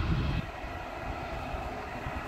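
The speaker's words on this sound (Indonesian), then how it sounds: "kita saksikan ini ada pesawat Wings yang sudah ancang-ancang mau ke runway" Airliner taxiing toward the runway at Sultan Hasanuddin International Airport in Makassar, a steady, fairly loud engine rumble and whine that holds evenly throughout with no talk.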